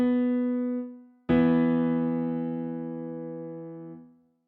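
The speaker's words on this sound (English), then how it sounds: "the interval of a fifth has a ratio of 3-to-2 and sounds like this" A single sustained musical tone rings and fades, then a second note a fifth away, at a 3-to-2 ratio, is struck and the two sound together, decaying smoothly before stopping.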